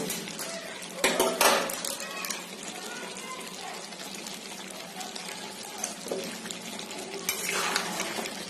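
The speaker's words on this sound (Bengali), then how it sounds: "এখন এটাকে আমি সামান্য নাড়াচাড়া করে এখানে আমি শাহি গরম মশলার গুঁড়ো দিয়ে দেব।" Chicken cooking with shahi garam masala powder is stirred in a pan, with clanking utensil scrapes and bursts of metal-on-pan contact over a low sizzle, and faint voices in the background.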